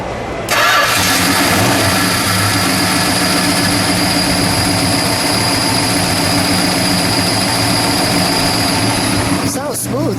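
A 1969 Dodge Charger 500 with a 426 Hemi V8 cranks and fires, then settles into a loud, steady, throbbing idle that runs close up for about ten seconds.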